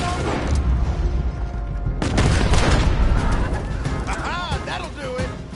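Gunfire in the video game Red Dead Redemption 2 crackles in rapid, overlapping shots with booming impacts, mixed with in-game voices shouting over the chaos.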